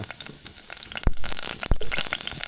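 Shallots hit hot vegetable oil in a pan with a close, loud crackling sizzle, with two sharp bursts of spitting and popping rising over the steady fry.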